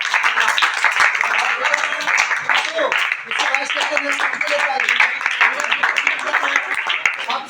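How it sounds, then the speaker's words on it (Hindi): An audience claps and applauds for a team captain during a quiz contest, continuous mid-loud clapping that carries on throughout with chatter and voices blended in. "नमन के लिए ताली।"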